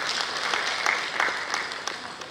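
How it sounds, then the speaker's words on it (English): Audience applause for an honoree at a GPU award night, a steady patter of many hands clapping in a hall that fades slightly toward the end, with no speech over it. "Esa, give a round of applause for Esa."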